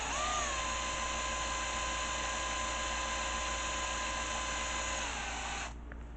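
A cordless drill spins an old DC motor, a steady high whine with a constant pitch that runs unbroken for nearly six seconds before cutting out abruptly near the end.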